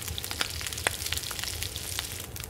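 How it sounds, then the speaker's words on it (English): Venison frying in The Long Dark video game: a close, steady crackling sizzle of meat in a pan with small popping spits throughout, no talking. "Cook the venison."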